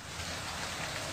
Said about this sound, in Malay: Lagi hujan loh.